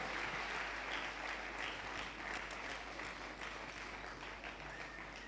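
A church congregation applauding during a service, a continuous dense patter of many hands clapping at moderate distance, holding steady for several seconds and easing off slightly, with no speech.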